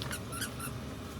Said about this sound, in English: She loves that squeaky toy.